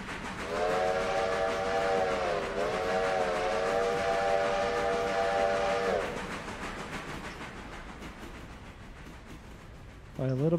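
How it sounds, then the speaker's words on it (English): A steam locomotive's whistle on a freight railroad gives one long, loud, steady chord for several seconds, then cuts off while train noise rumbles on, with a brief second blast starting at the very end. "It's a whistle."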